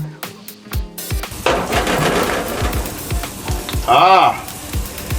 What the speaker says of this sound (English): we're gonna start grilling our corn this side down first